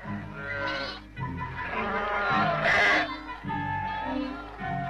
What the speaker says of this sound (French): 2 millions de moutons sont baignés chaque année.